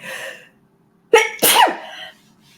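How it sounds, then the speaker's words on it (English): A single sharp sneeze with a quick intake of breath before the burst, close and loud, following a brief murmur. "I'm gonna sneeze"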